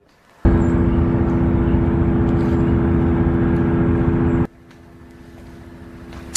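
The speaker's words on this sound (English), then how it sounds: "It's a humming noise that is rattling neighbors in South Jersey." A data center in South Jersey gives off a low humming noise, a steady loud drone with a tonal low hum that runs for about four seconds, then drops abruptly to a fainter background rumble.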